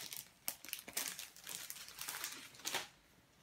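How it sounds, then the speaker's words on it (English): An envelope slides out of a crinkly plastic packet, giving a quick series of close, quiet crinkles and rustles with a few sharper crackling bursts, with no talking. "Let's grab the envelope from its little packet."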